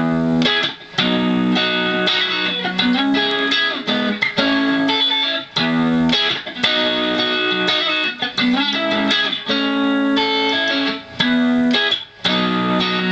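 An electric guitar plays the album-version fills from a song, quick picked chord fragments and melodic runs with light effects, close and continuous with short pauses between phrases and no talking.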